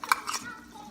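A spoon clinks and scrapes briefly against a pot while stirring Kapampangan chicken asado with tomato paste and liver spread, two quick bright taps then a soft swish.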